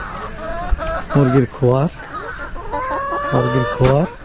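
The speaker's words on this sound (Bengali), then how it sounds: "দেখেন কত সুন্দর মুরগি" Chickens in a backyard coop cluck and squawk up close in short bursts, several birds calling in quick succession with low background noise and a voice nearby.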